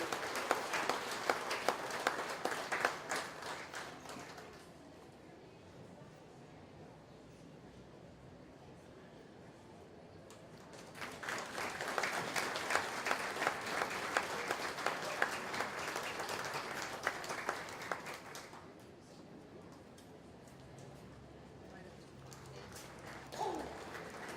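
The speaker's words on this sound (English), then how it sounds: "round of applause to this heavyweight division" Applause for the heavyweight division at a junior fair dairy feeder cattle show, two sustained rounds of crowd clapping separated by a quieter stretch of arena ambience, fairly distant.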